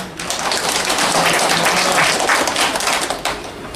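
A large audience claps steadily and densely at a literary award ceremony as the Yanbian Poets Association chairman is welcomed to give the opening address. The applause stays loud throughout and eases slightly toward the end.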